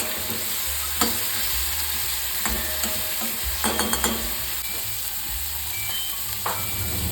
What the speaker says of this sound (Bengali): মিডিয়াম আঁচে আমি ঝিনুকগুলো হালকাভাবে ভেজে নেব, মানে খুব কড়া ভাজবো না